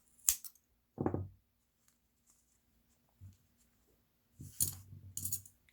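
Scissors snip ribbon yarn while finishing a crocheted card wallet, giving a few short, close clicks and cuts separated by quiet gaps.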